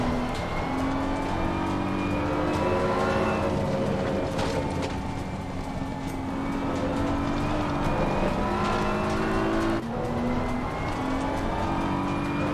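Race car engine in Assetto Corsa Competizione at Imola, loud and continuous, revs climbing in repeated accelerating sweeps with gear changes and brief lifts between runs, alone without talk.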